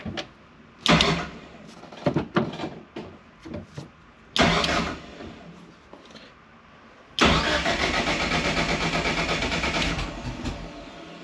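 A Haltech-equipped drag car, left sitting for weeks and still cold, cranks in a few short bursts with pauses between them. The engine then fires and settles into a loud, steady, raspy idle close by.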